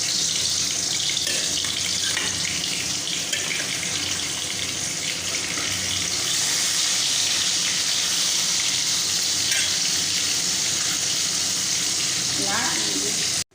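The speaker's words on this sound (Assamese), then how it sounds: "মাছ কেৰাহীত দি দিছোঁ।" Fish rubbed with salt and turmeric frying in hot oil in a wok, a loud, continuous close-up sizzle and crackle holding steady throughout, with no voices.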